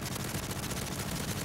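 Rapid automatic gunfire from a helicopter in a survival shooter video game rattles in a dense, continuous stream, loud and close throughout.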